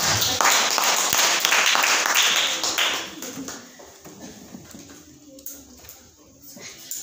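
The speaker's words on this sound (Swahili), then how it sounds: "Pigia kwa Bwana makofi." A church congregation claps and cheers for the Lord in a loud, dense burst of applause for about three seconds, then fades to scattered sounds with a voice speaking over the room.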